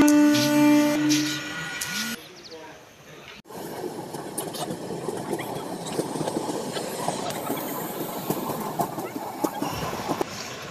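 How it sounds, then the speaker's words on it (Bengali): A train pulls out of Medinipur station bound for Howrah, its steady rolling rumble and rail clatter running loud and continuous after a brief horn-like tone and a short cut at the start. "আস্তে আস্তে ট্রেন মেদিনীপুর থেকে ছেড়ে বেরিয়ে যাচ্ছে হাওড়ার উদ্দেশ্যে"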